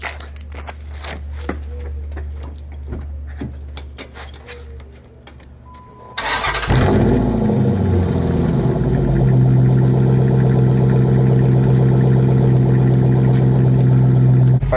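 A car cranks and fires up partway through, then settles into a steady, loud idle close by, with quieter rustling and handling noises before the start.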